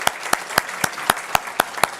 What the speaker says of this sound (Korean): 저 뒤쪽에 3교구 뒤에 계신데 우리 박수로 환영하겠습니다